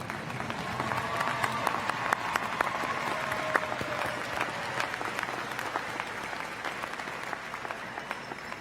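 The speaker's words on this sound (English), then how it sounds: "Graduates, let's clap." Graduates clap at an evening commencement ceremony, a sustained patter of many hands at moderate volume, steady throughout with faint crowd murmur beneath.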